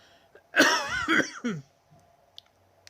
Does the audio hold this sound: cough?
yes